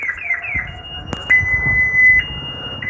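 An electronic alarm tied to a government institution or university in India shrills in repeated rising and steady tones, set off by monkeys, with clicks and street noise in the background and no talking.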